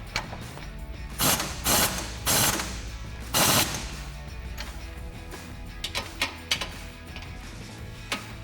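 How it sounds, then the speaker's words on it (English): Ratchet tightening the bolts of an adjustable forged track bar on a Jeep Wrangler JK, with loud close bursts of rapid clicking separated by quieter metallic ticks and clanks. "we can go ahead and fully tighten everything down"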